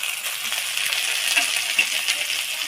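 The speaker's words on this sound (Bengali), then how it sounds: "এবার দিয়ে দেবো পেঁয়াজ বাটা," Onion paste sizzling in a hot pan with already browned onions, a steady bright frying hiss with occasional small pops, close and without talk.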